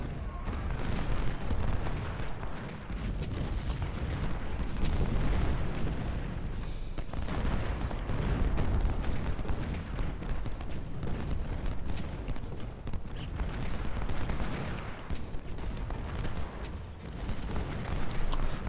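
Constant rifle fire from massed infantry, including repeating rifles, in the Civil War strategy game Ultimate General: Civil War during a battle at Fort Stevens, a dense unbroken roar of crackling shots and rumbling booms with no pauses.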